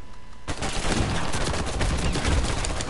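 Rapid gunfire erupts in Uncharted 4 and keeps going, a dense, loud barrage of overlapping shots and automatic bursts after a short quiet start.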